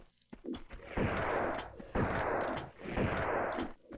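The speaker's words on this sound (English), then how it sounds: "Fucking busting out the shotgun." Shotgun fire in the video game Tomb Raider II booms in three heavy blasts about a second apart, each with a rumbling tail, loud and close.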